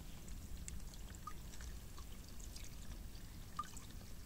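Natural mountain spring water pours outdoors at a highland campsite, a faint steady trickle with occasional small drips and splashes.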